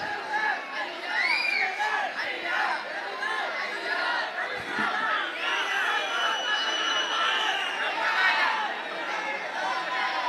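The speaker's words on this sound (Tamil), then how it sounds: "எதுக்கு கூச்சல் போடுறீங்க?" A crowd at a farmers' movement conference, many voices chattering and shouting at once in a steady, dense hubbub with occasional whoops, fairly close and continuous throughout.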